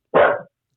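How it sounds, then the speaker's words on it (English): One sharp, loud bark from a pet dog named Pretzel, close by in a home during a Zoom call, short and alone with no talk over it. "Sorry, the dog."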